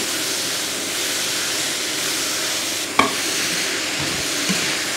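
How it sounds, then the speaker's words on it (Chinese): Vegetables being stir-fried in a wok with garlic, ginger, dried chillies and sauces, a steady loud sizzle with a sharp clack of the spatula near the middle, no talking. "把配菜炒一炒"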